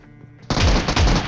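Automatic gun firing in a video game: after a quiet half-second of faint background, a loud rapid burst of shots erupts and continues densely to the end.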